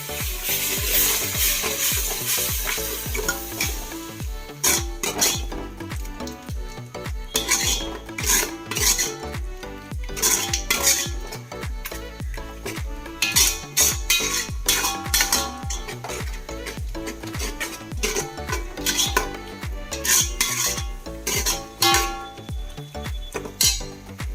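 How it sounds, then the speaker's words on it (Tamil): Masala paste for chicken biryani stirred in a pot, a metal spoon scraping and clattering against the sides in a quick, steady rhythm, close and fairly loud throughout with no talking. "சேர்க்கிறது கூட சேர்த்து நல்லா கிண்டி விடணும்"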